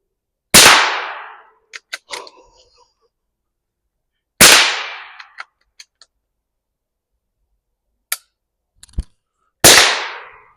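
Three loud, sharp cracks ring out from a Ruger Precision Rimfire rifle in .17 HMR, spaced several seconds apart, each followed by brief metallic clicks and clinks of the action, with silence between.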